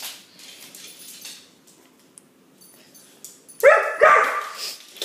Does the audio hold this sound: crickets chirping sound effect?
no